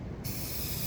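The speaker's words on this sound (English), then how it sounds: "Let's spray it." A headlight coating product is sprayed onto a car headlight from an aerosol can, a steady close hiss that starts sharply and runs on unbroken, with no talk.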